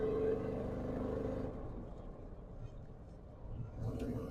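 1990 Chevrolet R3500 crew-cab dually with a fuel-injected 454 V8 and turbo 400 gearing, a low engine rumble heard from inside the cab, strong at first then settling quieter, with someone talking over it.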